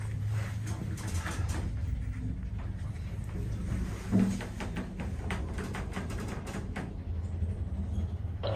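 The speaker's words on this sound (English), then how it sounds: "Lift going down." A shopping centre lift travels downward with a continuous low rumble and hum, a faint knock about halfway through and light rattles later, and no talking.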